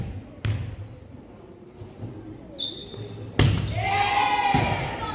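A volleyball serve at a Lethbridge Volleyball Club match rings out as a sharp slap in an echoing gym, with a second hit and a thud shortly after, over crowd noise and talk.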